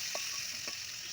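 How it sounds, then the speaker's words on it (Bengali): Potatoes frying in oil with salt and turmeric: a brief, steady, soft sizzle with a couple of faint stirring clicks, no voices. "আলুগুলো ভেজে নেব লবণ হলুদ দিয়ে।"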